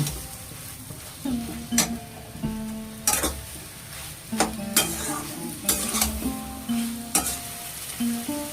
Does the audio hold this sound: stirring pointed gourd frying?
yes